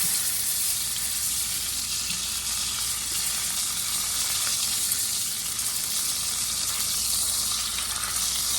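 Steak searing in hot grease in a skillet, a dense, even hiss of frying fat that holds steady from start to finish, close and moderately loud with no voices.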